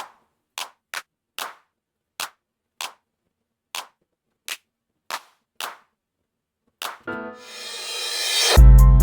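A string of short, crisp clap drum samples auditioned one at a time in FL Studio, about a dozen dry hits spaced evenly apart, followed by a louder burst of a fuller sample at the end.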